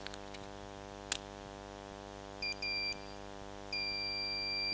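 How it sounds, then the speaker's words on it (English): An electronic buzzer driven through a relay by an Arduino Uno with a flame sensor sounds in three steady tones, two short ones and then a longer sustained one, over a constant background hum, with a faint click beforehand. "Arduino Uno will trigger the relay to make this buzzer to produce sound"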